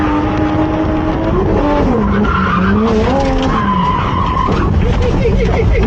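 A Toyota Mark II JZX100 drifts on a track at night, tires squealing loudly over a straining engine whose pitch swings up and down through the slide, with a continuous loud roar throughout.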